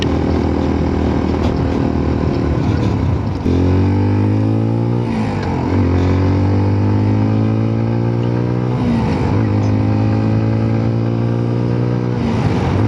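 A 2026 CFMOTO Papio SS 126cc mini motorcycle with a quiet stock exhaust rides down the road, its engine loud and close, rising in pitch through repeated gear runs with brief dips at each shift.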